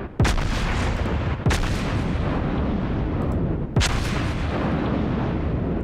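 Main battery guns of the Iowa battleship fire in World of Warships naval combat, three heavy booming salvos spaced a second or two apart over a constant loud rumbling game soundscape.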